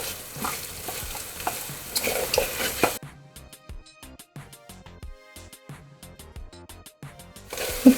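Rice roasts in a pan over a raised gas flame, giving a dense frying hiss at first, then sparse scraping and stirring clicks as the grains are turned, close up with no speech.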